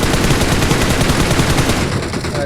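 Continuous rapid automatic gunfire from the battle-royale game BGMI, a dense loud burst of shots running for the whole stretch and easing slightly near the end.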